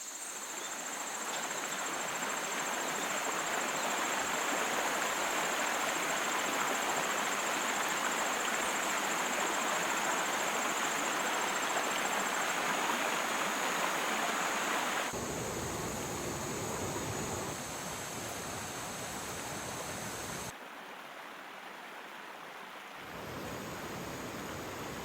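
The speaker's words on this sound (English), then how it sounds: "enjoy the sounds of nature and the Rogue River" The Rogue River flows steadily in a quiet natural setting, a broad, even rush with a high insect-like hiss above it that continues throughout, changing slightly in tone partway through, with no voices.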